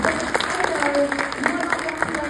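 A cinema audience at Gardena Cinema gives a short burst of applause after a film Q&A, scattered clapping with overlapping chatter and a thin tonal hum beneath.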